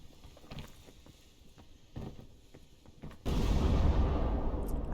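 A sudden loud blast in the climbing game PEAK, a sharp onset that gives way to a sustained roaring rumble after a few quieter scattered knocks.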